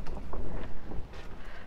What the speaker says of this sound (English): it's a bit of a windy day, but it's not raining